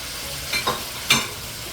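Chinese sausage for pancit sizzles in a pan under a steady hiss, with two or three short, louder bursts of stirring or spattering, no voices.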